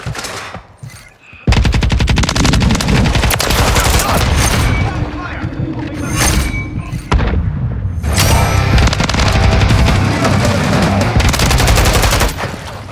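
Sustained automatic gunfire in Call of Duty Modern Warfare III during a Domination match on a New York City highrise map, loud rapid bursts hammering almost continuously after a brief quiet start, with short pauses and voice callouts mixed in.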